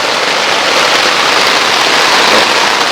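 Torrential downpour pounds a small solo dome tent at night during camping on a deserted island, a loud, dense, unbroken hiss and patter with no voices.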